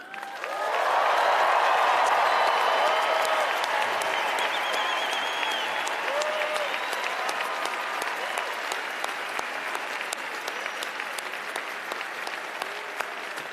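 A large stadium crowd at a graduation ceremony bursts into loud applause and cheering that swells quickly, then holds steady as a broad roar of clapping.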